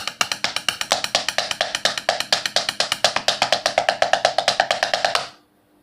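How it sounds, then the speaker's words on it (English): Chopsticks tapping steady 16th notes on an electronic practice pad, a fast even run of sharp clicky hits, close and alone, stopping abruptly after about five seconds. "16th notes, also known as semiquavers, and in this tempo they would sound a bit like this."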